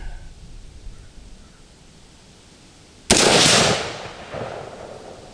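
A Smith & Wesson M&P 15 Sport II rifle fires a single loud sharp shot outdoors at a range, followed by a rolling echo that fades over about a second.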